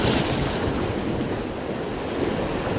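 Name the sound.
sea waves while fishing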